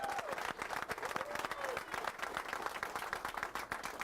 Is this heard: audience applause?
yes